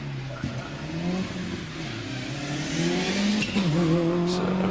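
Subaru Impreza rally car, number 820, climbing the Prescott hill course, its engine note rising and dropping through gear changes and building louder toward the end, heard without talk.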